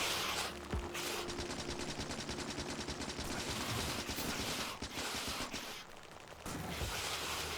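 Rapid automatic gunfire in the video game Deep Rock Galactic, sustained dense bursts of shots that barely pause, loud and continuous with brief gaps near the end.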